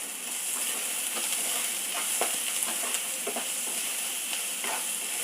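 Onions with salt sauté in hot oil in a pan for beetroot curry, giving a steady bright sizzle with scattered soft crackles and a few spoon scrapes, close and fairly quiet, with no talking.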